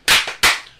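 Two sharp hand claps in quick succession, close and loud, each with a short ringing decay and no talking around them.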